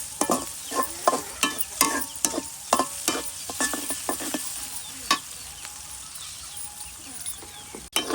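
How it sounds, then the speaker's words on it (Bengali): Onions being fried and stirred in a pan until browned, a low steady sizzle punctuated by a rapid series of sharp spatula scrapes and knocks that thin out later. "এই যে আমাদের পেঁয়াজ ভাজা হয়ে গেছে"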